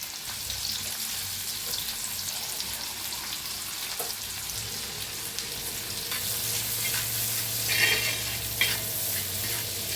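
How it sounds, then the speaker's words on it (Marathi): Half a spoon of cumin and finely chopped onion frying in hot oil in a kadai for an egg dish, a continuous close crackling sizzle with occasional stirring scrapes, heard alone. "तेल चांगलं गरम झालंय त्याच्यात टाकूया अर्धा चमचा जिरं बारीक कापून घेतलेला कांदा"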